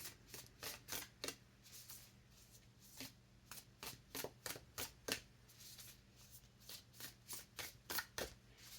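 A deck of oracle cards is shuffled by hand in quick repeated riffles, a crisp rhythmic series of papery flutters and snaps, close and fairly quiet, with no voices.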